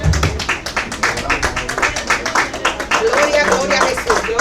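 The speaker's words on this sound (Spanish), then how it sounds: "Den un aplauso a Jesucristo." Church congregation clapping together in steady rhythmic applause during a Spanish-language worship service, loud and close, with voices and singing mixed in over the beat.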